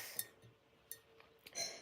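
A glass of natural spring water is handled near a mukbang eater, giving a few faint, sharp clinks and taps scattered over a quiet background.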